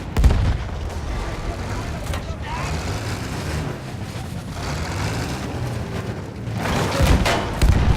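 Cannon and artillery blasts from the World War I shooter Battlefield 1 land as heavy booming bursts, one early and a louder cluster near the end, over continuous battlefield rumble and gunfire.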